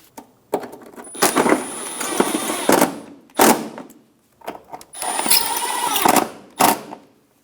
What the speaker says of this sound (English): We're going to go around and install the screws on the inner fender liner.